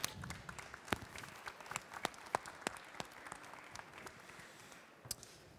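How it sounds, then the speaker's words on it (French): Audience applause at a live cooking show event, breaking out after a chef presents a plated dish; a dense, steady patter of many hands clapping at moderate loudness, with a few sharper claps standing out, no voices. "Et ça s'applaudit, s'il vous plaît."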